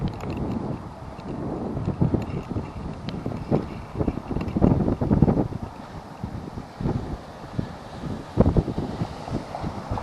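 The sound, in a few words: strong wind while cycling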